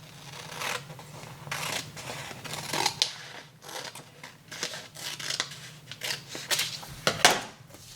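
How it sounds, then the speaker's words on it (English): Scissors cutting folded recycled paper for a butterfly garland, a series of close, crisp snipping and rustling strokes with brief pauses, no talking. "And then I'm going to cut it in half with my scissors."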